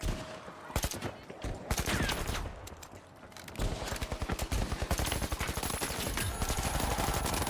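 An automated guardian turret in a competitive shooter fires long rapid bursts of gunfire with brief pauses, loud and close throughout, while a voice speaks occasionally beneath.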